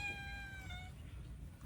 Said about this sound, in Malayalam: അപ്പുറത്തെ പൂച്ച വന്നു.